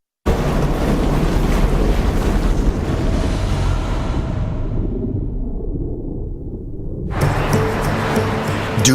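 Ferocious desert wind in Dubai roars as a constant loud rushing blast across the microphone, easing briefly to a lower rumble before gusting hard again.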